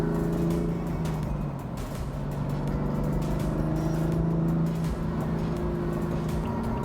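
MHD tuned 2015 BMW M3 with turbos accelerating on the road, heard as a steady in-cabin engine drone with rising harmonic tones and road rumble, no talk.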